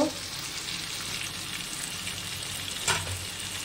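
Spices frying in a pan for a jackfruit and prawn curry give a steady, close sizzling hiss throughout, with a brief louder clatter near the end.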